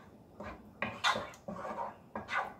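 Penne in vodka sauce stirred in a pot over a medium flame, with several scraping, clinking strokes of a utensil against the pot at an uneven rhythm, close and fairly loud, no talking.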